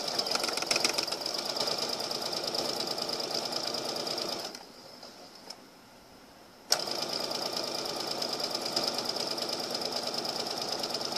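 Sewing machine stitching and back stitching a quarter-inch seam on a pillowcase dress, a loud rapid mechanical whir that stops for about two seconds of near quiet with a small click, then resumes abruptly at full speed.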